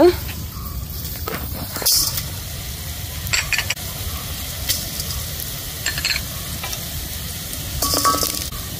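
Spices fry in a hot pan for a Kadle manoli sukka dish, a steady close sizzle broken by several bursts of scraping and clinking as a utensil stirs against the pan.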